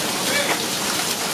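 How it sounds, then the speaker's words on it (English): Pea-size hail falls during a tornado storm over a house in Lena, Illinois, making a dense, steady, close hiss and patter that stays loud throughout. "It's like pea-size hail again."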